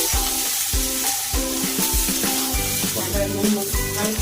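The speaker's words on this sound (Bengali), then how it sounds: "এবার যা সবজি সব দিয়ে দেবো, দিয়ে নাড়বো।" Mixed vegetables frying in a hot pan, with a loud continuous sizzle and a spatula stirring in a regular rhythm of scrapes and knocks, close up and free of talk.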